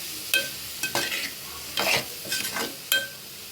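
Cabbage being tossed and sautéed in a pan over low gas for a Marathi kobi bhaji, with several short scraping stirs and soft sizzle bursts spaced irregularly, close and fairly quiet, no talking.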